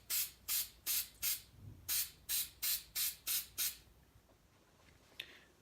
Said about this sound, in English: now you're gonna spray this again